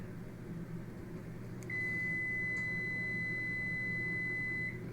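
Kitchen oven signalling it has reached preheat temperature with a single sustained electronic beep tone over a low room hum, fairly close and clear, no voices.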